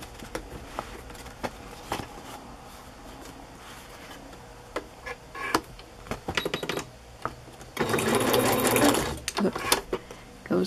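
A sewing machine stitches a glittery pocket onto a fabric journal page, running in short bursts and then one longer steady run near the end, with a voice speaking in between.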